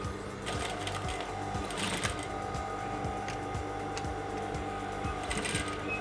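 A sewing machine runs top-stitching on pieces of a Yoruba abeti aja traditional cap, its needle thumping in a steady rapid rhythm with a mechanical whir, fairly quiet and close, no talk.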